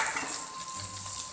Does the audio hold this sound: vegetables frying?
yes